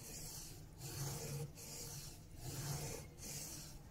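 A steel chisel bevel rubs back and forth on a sharpening stone under firm pressure, a soft gritty rasp in steady strokes about every three-quarters of a second, close and quiet.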